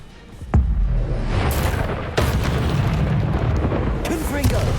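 A Descendo spell impact in Hogwarts Legacy lands as a heavy boom near the start and a second blast about two seconds later, each followed by rumbling debris, with voices and game effects layered over it.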